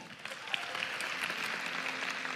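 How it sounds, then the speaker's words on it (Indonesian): A church congregation claps during a sermon, a steady, even spread of applause at moderate distance that stays level throughout without voices on top. "Kasih tepuk tangan Tuhan"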